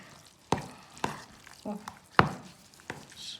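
A spoon stirs a cottage cheese mixture for a curd pie, giving a few distinct wet slaps and scrapes at an uneven pace. The sounds are close and fairly soft, with no talk.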